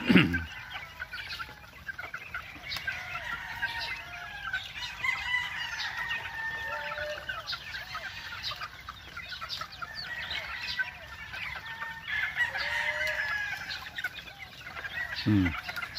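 Chickens and gamefowl on a farm cluck continuously in a busy flock, with several overlapping birds and crowing heard at moderate distance throughout the steady background.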